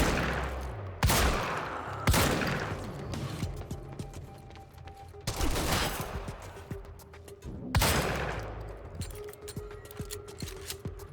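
Heavy shotgun blasts in the video game Quantum Break, five loud booming shots spaced a second or more apart, each with a sharp attack and rumbling decay amid in-game action noise.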